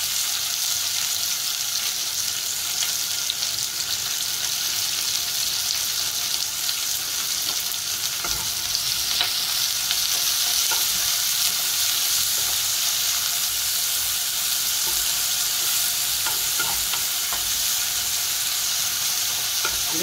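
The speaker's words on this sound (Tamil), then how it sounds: "பச்சை மிளகாய், வெள்ளைப்பூடு, அடுத்து நல்லா வதக்குவோம்." Green chilies and garlic sauté in hot oil in a pan for a Sri Lankan tin fish curry, giving a loud, continuous close-up sizzle with occasional scraping stirs, and no voices.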